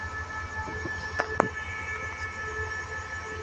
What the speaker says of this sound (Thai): เป็นรถด่วนดีเซลรางนะครับ รถสปินเตอร์